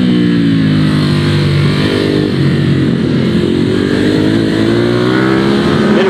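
A 2019 Ducati Hypermotard 950 twin-cylinder engine revs loudly and continuously while being ridden, its pitch rising and falling with the throttle, close and unbroken with no talk.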